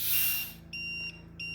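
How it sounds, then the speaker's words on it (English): Leak detection sensor alarm on an ILT-350 light spectrometer underwater housing, sounding after a loss of vacuum: steady high-pitched electronic beeps in two long tones with a short gap, following a brief hiss of air. "this is the alarm from the leak detection sensor saying that there was a loss of vacuum"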